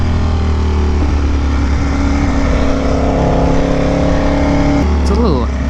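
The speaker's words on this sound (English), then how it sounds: "It's a little early for all this traffic." Road traffic rolls past close by, with a loud, steady engine drone and tyre roar that shifts pitch as vehicles go by, and a change in the engine note near the end.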